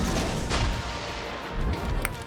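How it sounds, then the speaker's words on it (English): Torpedoes launched from the destroyer Shimakaze in the naval game World of Warships, a dense rumbling roar with a few heavy booming thumps, loud and continuous without speech. "some torpedoes away against the Thunderers"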